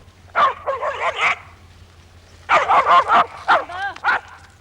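A dog on a Dartmoor farm barks close by in two bursts of rapid, high yapping barks separated by a short pause, over a faint low hum.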